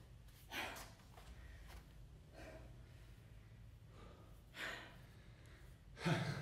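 Heavy breathing follows a leg workout: three or four loud, sharp exhalations and gasps, close to the microphone, separated by quieter panting.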